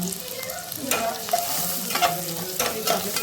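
Ginger, garlic and vegetables such as onion and carrot stir-frying for Hakka noodles, a close steady sizzle broken by several sharp scraping stirs of the spatula, no voices.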